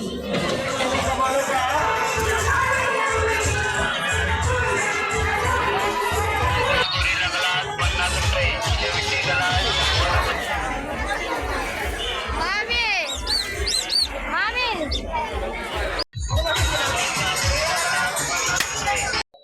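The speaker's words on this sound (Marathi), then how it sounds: "पण गर्दी भरपूर लागली" A dense crowd at the Deulwadi village fair (jatra) in Karjat fills the air with continuous overlapping chatter and bustle, a loud, busy murmur with voices talking close by.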